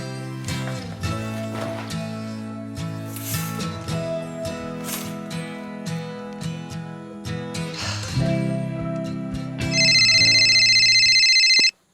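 Music plays steadily, then a loud electronic phone ringtone cuts in near the end, repeating its bright melodic pattern.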